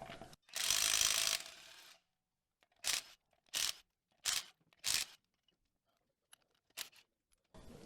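Socket tool spinning off truck wheel lug nuts on a 2007-2013 Chevy Tahoe or Silverado, a long loud whir of about a second followed by five short ratcheting bursts with pauses between, no talking.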